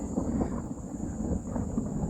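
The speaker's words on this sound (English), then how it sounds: "There's a bit of thunder." Distant thunder rumbles low and continuous on a cloudy day outdoors near a swale mound, a faint steady grumble with wind noise and no clear peaks.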